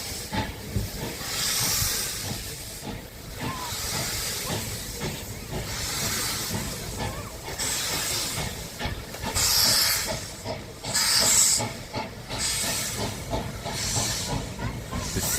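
A steam locomotive at a railway museum releases loud, sustained hisses of steam in repeated surges, with rumbling machinery underneath and brief sharper bursts.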